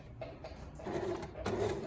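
A sewing machine stitches fabric in short close bursts of mechanical whirring and rattling, rising louder in the second half and tapering between runs.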